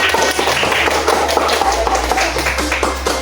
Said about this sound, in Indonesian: Masya Allah, beri tepuk tangan.